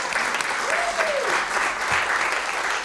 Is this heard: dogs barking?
no